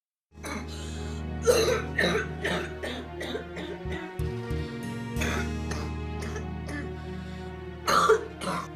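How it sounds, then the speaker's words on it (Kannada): A man coughs repeatedly in harsh, throaty bursts, close by, with irregular spacing and a louder fit near the end over a low steady hum. "ಇದೇನು ಸಾಮಾನ್ಯ ಕೆಮ್ಮು ಅಲ್ಲ."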